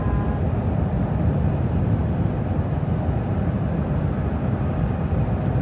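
Steady broadband rumble and hiss inside the Jakarta-Bandung high-speed train while riding, a constant loud cabin drone without pauses and no voices.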